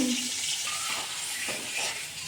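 Garlic paste thinned with a little water frying in oil in a kadai gives a steady close hiss and sputter, with faint stirring scrapes mixed in, fairly soft and continuous.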